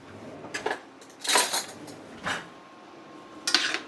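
Metal utensil clinking and scraping against a pot of homemade cheeseburger noodles as they are checked, with a few separate clanks and rattles spread out, fairly close, and no speech.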